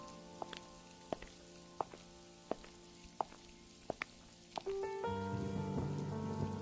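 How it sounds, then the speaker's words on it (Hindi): Rain sound effect in a Hindi moral story, starting as sparse loud drips and taps on a surface, then swelling abruptly into a dense, steady downpour. "तभी अचानक बारिश बहुत तेज हो गई।"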